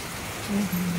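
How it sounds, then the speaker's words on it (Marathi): Rain falling outside a home during a monsoon shower, a faint, even hiss of drops heard from indoors with a brief low hum rising partway through. "मस्त पडतोय. बाहेर पाऊस."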